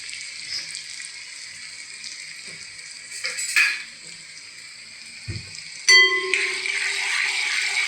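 Onions and garlic with curry leaves sizzle steadily in a hot pan for Khandeshi shev bhaji. The frying hiss runs throughout, with a few clinks of a spoon or pan.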